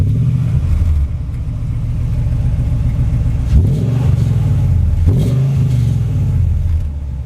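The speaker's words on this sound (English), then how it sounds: "I want to also start this truck." A Nissan Titan pickup truck engine runs steadily and is revved twice, rising and falling in pitch, loud and close with no voices.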